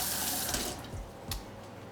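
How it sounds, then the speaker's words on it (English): Spoon rinsed under a kitchen tap: a short burst of running water splashing into a sink, hissing broadly and then tapering off with a couple of small splashes. "Let me rinse off my spoon."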